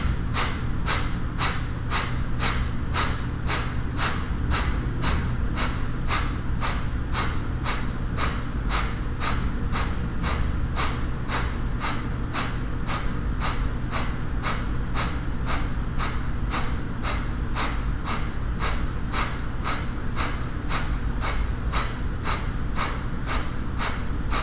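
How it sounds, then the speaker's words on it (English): Ashtanga pranayama yoga breathing: a steady series of rapid, rhythmic breaths pushed in and out through the chest, close and loud, continuing evenly with no talking. "Inhaling into the chest and exhaling"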